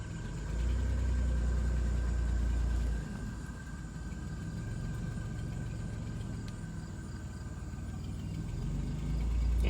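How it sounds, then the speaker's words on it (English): Idling engine of a 1996 Dodge Grand Caravan with an exhaust leak, a steady low rumbling drone that holds close and loud for the whole stretch, dipping slightly in the middle before swelling again. "You can really hear that exhaust leak."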